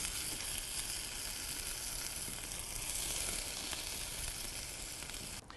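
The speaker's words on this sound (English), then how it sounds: "Those are going to go directly into the pan, and I'll saute them until they're golden and crisp." Potato gnocchi dumplings sauté in a pan over an outdoor campfire, giving a steady, dense sizzle that stays loud and unbroken throughout, with a faint clink near the end.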